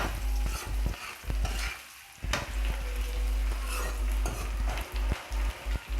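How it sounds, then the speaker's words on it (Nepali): Garlic and ginger fry in a hot pan, a continuous sizzle broken by repeated clacks and scrapes of a spoon stirring against the metal. "लसुन अदुवा खरिँदैछ साथीहरु"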